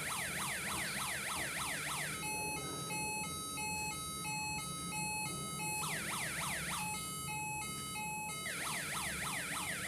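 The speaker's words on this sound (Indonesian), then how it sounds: "kita merakit sirine dengan 4 suara, bahkan bisa kita gunakan 5 suara sekaligus" A home-built electronic siren module alternates between bursts of rapid yelping sweeps and a steady two-note high-low pattern, loud, continuous and piercing.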